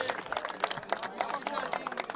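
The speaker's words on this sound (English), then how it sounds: "A big round of applause." A crowd applauds a prize winner at a final-day cricket tournament ceremony, brief scattered clapping at a modest distance mixed with speech babble.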